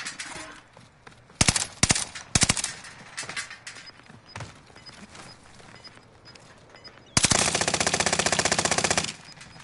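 Machine gun fire in the Call of Duty Warzone video game: several short loud bursts, then a long sustained rapid volley near the end, close and punchy over quiet game ambience.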